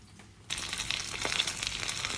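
A steak fillet fries in hot oil in a pan, a sudden burst of loud, steady sizzling and crackling that starts after a half-second of quiet and keeps going without a break.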